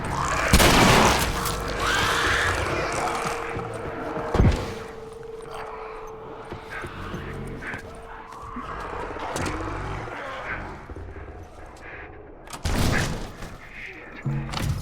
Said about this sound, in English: The other way to do it is with a shotgun.